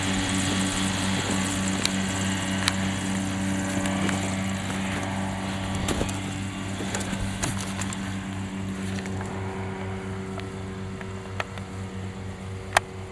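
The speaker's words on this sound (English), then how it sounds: "He almost dragged the tail skid when he took off there" A Kitfox light airplane fitted with skis takes off from snow, its propeller engine droning steadily at a moderate distance throughout, with a few faint knocks and clicks nearby.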